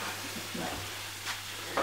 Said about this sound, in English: smoked bacon just gently cooking in a frying pan